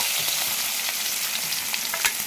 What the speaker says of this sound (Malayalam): ചൂടായി നമ്മൾ അതിലേക്ക് കറിവേപ്പില കൊടുക്കുക ചേർക്കുക